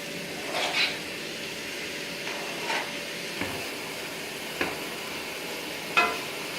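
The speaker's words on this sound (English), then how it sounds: "So I'm going to put it into the pan and let it" About a pound of chicken breast seasoned with salt and pepper sizzles as it browns in a pan, a steady soft hiss broken by occasional louder spits and stirring scrapes, heard alone.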